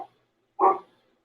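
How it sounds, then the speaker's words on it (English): A dog gives a single short, moderately loud bark, preceded by a faint clipped yelp at the very start, with quiet around it. "And hello, annoying dog."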